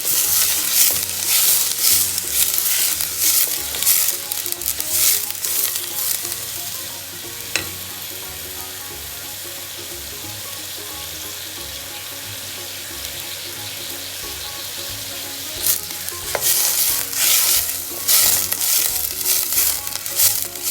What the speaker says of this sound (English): So once we mix the onion with olive oil properly